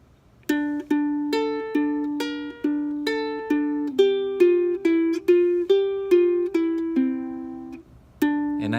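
A riff plucked on a ukulele: a steady run of bright single notes, each decaying quickly, repeating the pattern with a short pause before a final note, played alone and close.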